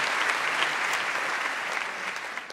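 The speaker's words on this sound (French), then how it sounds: "On peut applaudir, s'il vous plaît, notre heureuse?" Audience applause at a French stand-up comedy show, steady dense clapping from a crowd throughout, moderately loud with no talking over it.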